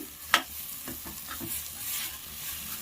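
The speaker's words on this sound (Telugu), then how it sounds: "ఇప్పుడు పితిపప్పు వేసుకొని ఫ్రై చేసుకోవాలి పిదిపప్పు వేసిన తర్వాత ఇలా అంతా మనము ఒకసారి ఇలా కలుపుకోవాలి" Field bean dal frying in a pan for a Rayalaseema-style curry, with a loud spoon scrape at the start followed by several stirring scrapes over a steady sizzle, close up, with no voices.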